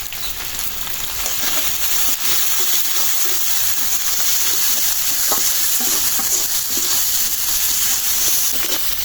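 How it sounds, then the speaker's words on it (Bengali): Spice paste with salt and turmeric frying in oil with onions, a dense, loud, unbroken sizzle like heavy rain, with occasional soft stirring knocks, close up and without speech. "মশলাটা তেলের সাথে পেঁয়াজের সাথে ভালো মতো মিশাই নিচ্ছি ভাজা ভাজা করে"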